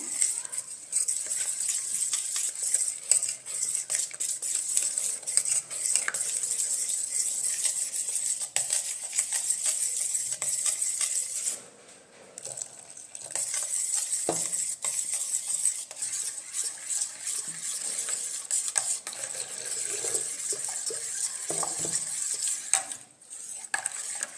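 Milk powder being stirred with water in a pot for basundi: a steady scraping, swishing stir that runs the whole time, close and fairly loud, with brief clinks and no talking.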